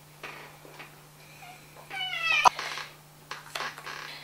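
A cat meows close by, one drawn-out meow with a rising then falling pitch, followed by a few soft rustles and scratchy movements in a quiet room with a steady low hum.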